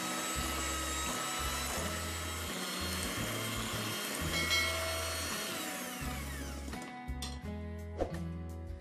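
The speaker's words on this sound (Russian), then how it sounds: "Перемешиваю при помощи миксера до растворения сахара." Electric hand mixer beating sugar into cake batter for a plum cake: a steady, loud motor whir that pulses with the beaters, runs for about seven seconds, then cuts off, leaving a few light knocks.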